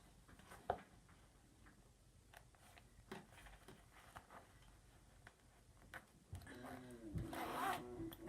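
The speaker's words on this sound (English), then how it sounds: "we are going to put the zipper slide in" Light clicking and scraping of a zipper slide being fitted onto a zipper, with soft handling noises and a brief zip rasp near the end.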